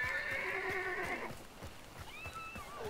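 A horse neighing in the video game Hunt: Showdown, a loud whinny over a second long followed by a second shorter whinny, with faint hoof clops underneath.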